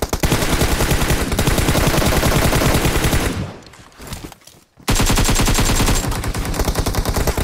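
Rapid automatic gunfire in a shooter video game rattles loud and close, breaking off for about a second and a half before the burst resumes just as dense.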